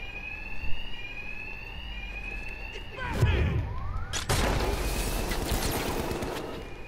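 An alarm rings steadily through a Two-Face gang bank heist in the video game Batman: Arkham Knight, a continuous electronic tone that is soon joined by loud brawl impacts and bursts of action noise.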